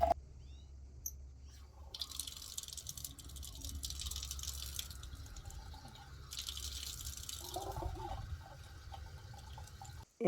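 Water running from a tap at a cemetery as items are rinsed: a steady splashing trickle with drips under faint outdoor ambience and birdsong, moderately close, continuing for several seconds before stopping abruptly.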